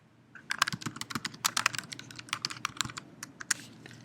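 Rapid typing on a computer keyboard, a close, dense run of sharp key clicks in uneven bursts lasting the whole stretch, with no voices.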